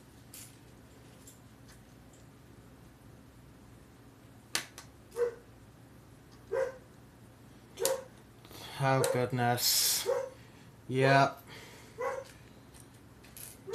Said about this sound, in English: I am so sorry if you hear dog barking.